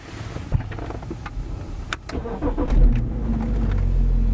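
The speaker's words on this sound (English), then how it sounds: "So we're going to start the vehicle." A BMW X5 diesel starts up close by, with some clicks and a short crank leading into a low, steady idle rumble that lasts to the end.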